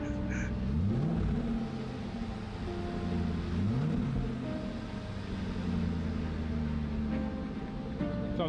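A Range Rover SVR engine runs smoothly and steadily after a rebuild, a close continuous rumble that swells slightly in a few gentle revs.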